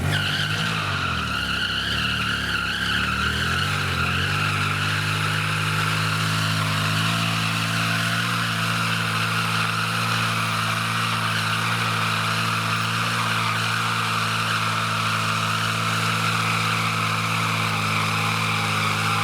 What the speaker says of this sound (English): The other tutorial we can go into is rolling burnouts.